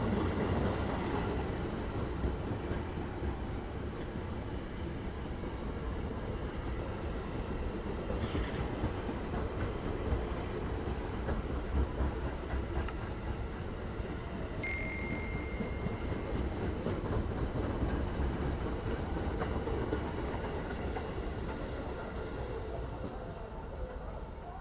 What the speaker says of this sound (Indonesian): ini ada KRL yang mau lewat ya